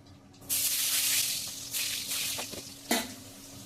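Potatoes go into hot oil tempered with black cumin (kalo jire), giving a sudden loud burst of sizzle and hiss that fades a little and then flares up again in short bursts, with no talk.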